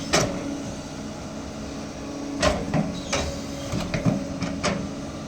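A Doosan DX200A excavator works nearby, its steady engine drone broken by several sharp hydraulic clunks and knocks from the bucket and arm.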